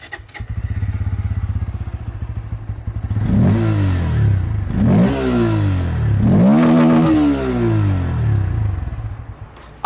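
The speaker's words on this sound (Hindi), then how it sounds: "तो दोस्तों आप लोगों ने यहाँ पर N160 को भी सुन लिया।" A Bajaj Pulsar N160 motorcycle with an underbelly exhaust idles, then revs loudly three times. Each rev rises sharply and falls back, recorded close to the exhaust.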